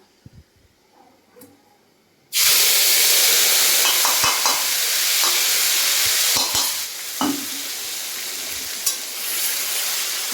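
Food stirred and sautéed in a frying pan over a lowered gas flame, with a sudden loud sizzle erupting after a quiet start and continuing steadily, broken by scraping stirs of the spatula.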